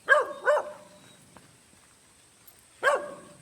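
A dog barks three times, two quick barks close together, then a pause before a single final bark, fairly near and otherwise quiet.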